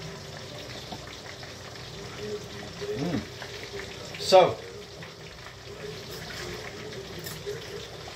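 Water poured into a real cow drinking horn, a short gurgling splash midway through, faint and close, with brief talk before it.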